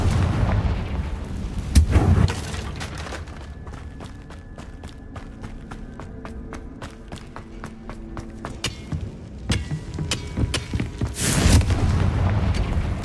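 The Confringo fire spell goes off in the Hogwarts Legacy video game, opening with a loud booming blast. A rapid series of crackling impacts follows, then another heavy explosion near the end.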